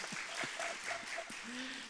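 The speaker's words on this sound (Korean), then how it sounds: "박수 한번 쳐야 되지 않습니까, 이럴 때?" A church congregation in Daejeon, South Korea, breaks into brief applause during a Sunday service. The clapping is soft, steady and somewhat distant, lasting under two seconds.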